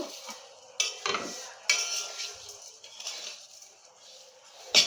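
Vermicelli and sugar are stirred in a pan, a few distinct metallic scrapes and clinks of a spoon against the pan spaced over a few seconds, close up, with a faint sizzle between strokes.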